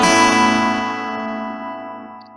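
A single guitar chord picked upward note by note so it rolls out as a rising figure, then rings and slowly fades, close and alone.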